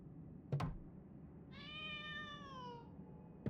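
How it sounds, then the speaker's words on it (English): Cat in a video game meowing from behind a painting, one long drawn-out meow in the middle, flanked by two sharp knock-like thuds, fairly quiet with no talking. "I can hear the cat's cries a bit clearer now."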